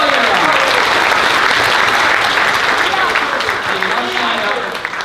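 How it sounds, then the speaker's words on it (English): A convention audience at closing ceremonies breaks into loud, sustained applause, a thick wash of clapping with cheers and voices mixed in, easing slightly near the end. "Give him a round of applause, please."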